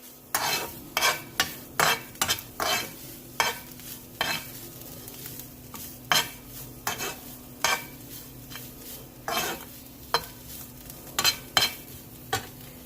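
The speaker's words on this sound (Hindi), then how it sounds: "अब मैं इसे मिक्स करूंगी" A spoon stirs chicken samosa filling with crushed black pepper in a frying pan, making steady rhythmic scrapes and knocks, roughly two strokes a second, over a low, even sizzle.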